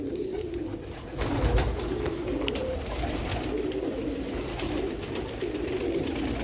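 A pigeon on a rooftop loft coos repeatedly at close range, low throaty calls rising and falling over light rustling and background noise.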